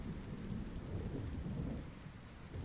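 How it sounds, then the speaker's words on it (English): Steady rain and low, rolling thunder from a storm scene in Final Fantasy Tactics, a continuous deep rumble with hissing rainfall, moderately loud and with no voices. "this voice acting along with the thunder and rain at that moment"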